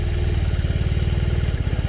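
A BMW R18 motorcycle pulls away gently in first gear in rain mode, its big engine giving a low, steady pulsing thrum close by with no voices.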